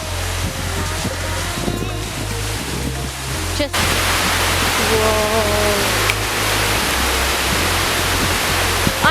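A rushing waterfall on a hike in the Blue Mountains sends out a steady broadband roar, with a low rumbling hum underneath and brief exclamations from a person nearby.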